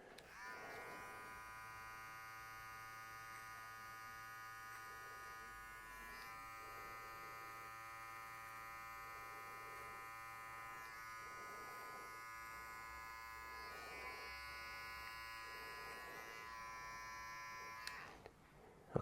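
An electric hair trimmer buzzes continuously while cutting a man's hair, a close, steady high hum with slight changes in tone as it moves over the head, ending with a sudden click.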